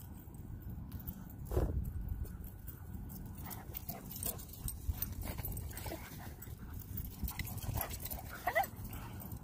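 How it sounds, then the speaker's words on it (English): Dogs run and play at a dog park, with scattered footfalls, rustling, and faint yips and whimpers over a soft outdoor background, fairly quiet and at a moderate distance. "I thought I'd let you guys see the doggies run."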